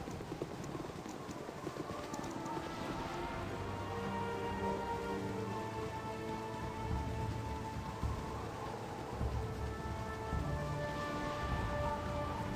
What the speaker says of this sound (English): The rain continues to come down.